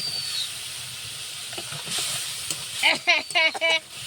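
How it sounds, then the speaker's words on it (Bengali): Powdered cumin and spices sautéing in a pan after onion and garlic have browned, a soft steady hiss and sizzle underneath, with a few clattering stirs and brief voiced sounds near the end. "এই যে পাউডার করা জিরে মশলা সব কিছু ঢেলে দিলাম, একটু কষিয়ে নিলাম।"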